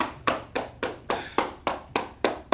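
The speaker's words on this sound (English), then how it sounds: "Let's clap it up for them." Hands clapping at an ISUPK class: a steady run of about nine sharp, evenly spaced claps, close and fairly loud, with no talk over them.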